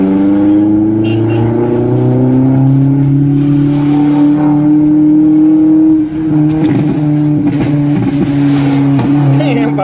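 A tuned car with an upgraded intake and full exhaust idles and revs loudly up close, its steady engine drone shifting pitch, with a few popping bursts toward the end and voices talking over it.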